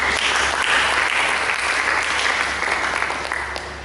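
A church congregation claps for Jesus during a sermon, a thick, continuous roll of many hands that stays loud before easing slightly toward the end; no voices stand out.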